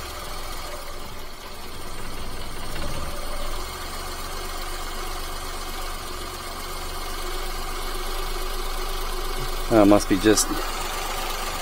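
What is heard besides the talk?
micro van engine idling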